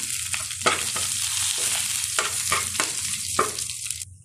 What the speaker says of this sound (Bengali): লাউ চামড়া ভাজি করবো।